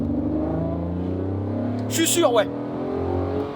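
A Ferrari 599 GTO's engine runs with a steady low drone, then briefly revs up in a short surge before settling again, close by, with someone speaking briefly over it.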